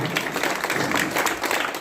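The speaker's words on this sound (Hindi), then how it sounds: "पहले इनका आप लोग जोरदार तालियों से अभिनंदन" Steady, loud applause from a crowd at an awareness-campaign gathering, a dense wash of many hands clapping at once without a break.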